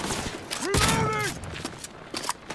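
Gunfire rattles out in short bursts during a Cyberpunk 2077 firefight, mixed with game sound effects and a player's voice talking across the shots.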